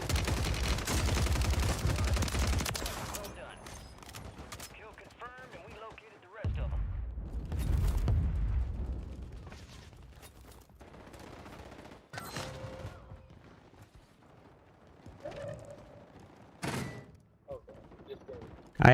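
Gunfire in a Call of Duty match: bursts of shots and rattling automatic fire, loud at first and then sparser, more distant cracks, with a voice talking over parts of it.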